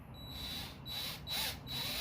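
A power drill bores into wood for a carpenter bee trap, whining in short repeated bursts with brief pauses between them, fairly close and moderately loud.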